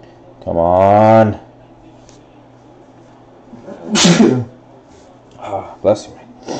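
A single loud sneeze bursts out close by during a basketball card box break, followed by people talking.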